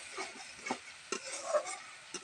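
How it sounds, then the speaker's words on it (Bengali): Spice paste frying in a pan while being stirred, with soft scraping strokes and light sizzling in a few quiet bursts. "এখন মশলাটা কষাবো"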